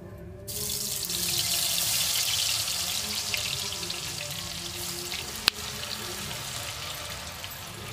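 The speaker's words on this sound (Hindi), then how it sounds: "अब इसे फ्राई करनी है तेल में तेल गर्म हो गई है अच्छी तरह से और जो हमने चिप्स काटी है और इसमें डाल दूंगी" Sliced banana chips drop into hot oil in a wok and fry with a steady, loud hiss and bubbling sizzle, with one sharp clink near the end.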